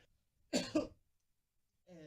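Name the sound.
cough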